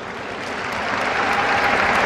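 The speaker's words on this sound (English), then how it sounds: "some polite applause there." Polite crowd applause at a SEA Games swimming event, a steady wash of clapping in a large venue that swells gently over a couple of seconds.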